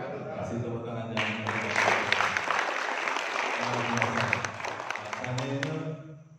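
An audience claps at the close of a speech at an Indonesian police-day event, a burst of applause swelling in the middle with talk and music-like tones underneath before and after.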